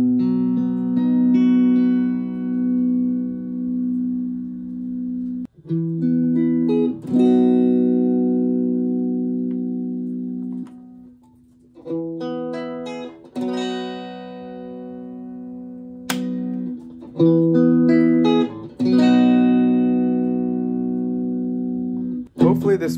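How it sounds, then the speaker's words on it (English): A 3D printed Telecaster-style electric guitar plays sustained chords and notes in separate phrases with short gaps. The tone is loud, clean and close, with no voices. "here's a quick demo anyways"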